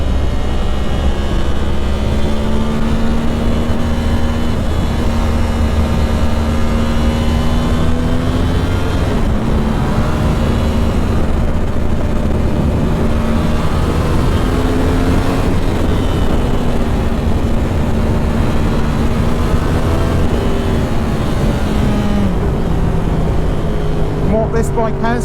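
A 2010 Yamaha R1 sport motorcycle engine is heard while riding, a loud sustained drone with rising and falling pitch as the revs shift, with steady wind rush over it.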